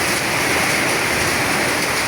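Heavy rainstorm with hail and wind in Dhaka, a loud unbroken wash of rain pounding surfaces, steady and close throughout with no voices.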